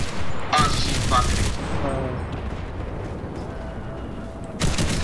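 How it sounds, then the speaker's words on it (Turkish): A tank blows up in the World War II shooter Enlisted amid heavy gunfire, with loud broadband blasts and bursts of shooting near the start and end and a constant battle rumble between. "Tank patladı."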